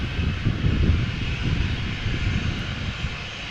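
The engines of a KLM Boeing 737-800 departing Amsterdam Schiphol Airport in crosswind produce a steady, broad roar with a low rumble. The sound holds fairly constant throughout, with no talking.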